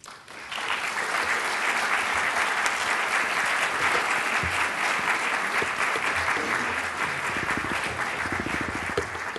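Audience applause welcoming a speaker at a scholarship luncheon, a full, steady wash of clapping from a crowd that starts abruptly and holds loud for the whole stretch.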